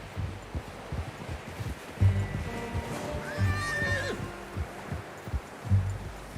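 A horse in Red Dead Redemption 2 gives a long, clear whinny near the middle, set against steady clip-clop hoofbeats and faint outdoor rustling.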